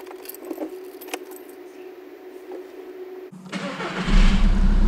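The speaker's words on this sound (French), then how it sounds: "maintenant on va venir démarrer le moteur" A Volkswagen Golf 6 with a 2.0 TDI diesel engine cranks and starts after a fuel filter change: keys jingle in the ignition first, then the starter whirs and the engine catches into a loud, close idle rumble.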